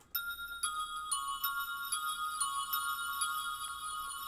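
A synth bell melody from the Nexus plugin, run through Valhalla Supermassive reverb, plays a Detroit-style pattern of bright, ringing chime notes with rhythmic repeated strikes and long shimmering tails, fairly loud and alone.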